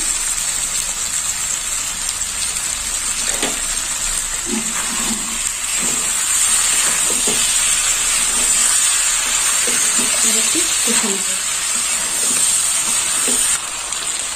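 Vegetables being sautéed with salt in a pan for a panch phoron vegetarian dish with paneer, giving a steady, hissing sizzle that runs continuously with soft crackles and occasional stirring scrapes close by.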